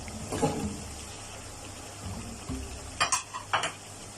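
Carrots and potato going into a chicken curry with coconut milk: a few soft thuds and clinks of a spoon against the pot over a faint background sizzle, with a cluster of scraping stirs toward the end.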